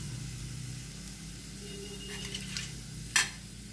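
Cumin, mustard seeds and dried red chillies sizzle softly in hot oil for a raw coconut green chutney tempering. A steady low hiss runs throughout, broken near the end by one sharp metallic clink of a utensil against the pan.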